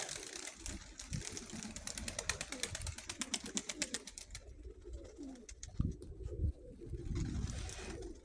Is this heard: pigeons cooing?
yes